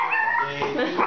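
At a family Thanksgiving gathering, a dog whimpers and gives high, wavering yips in quick succession, close and fairly loud, with people talking around it.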